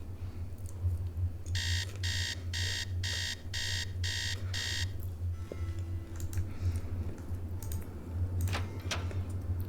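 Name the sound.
alarm ringing in a Nancy Drew video game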